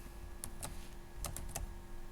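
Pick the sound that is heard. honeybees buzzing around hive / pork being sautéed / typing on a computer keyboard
typing on a computer keyboard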